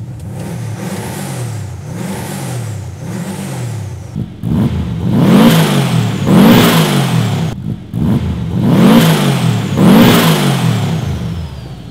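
Subaru-powered VW Beetle with a turbo engine and a metre-long exhaust, revved repeatedly in rising and falling blips, loud and close, growing harsher and more aggressive in the second half.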